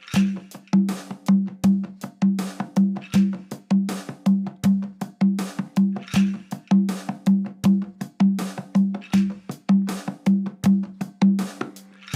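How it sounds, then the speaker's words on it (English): A hand drum plays a steady, repeating syncopated tresillo pattern of deep tones and sharper slaps, looping evenly throughout with no voices. "It's a universal hand drum pattern."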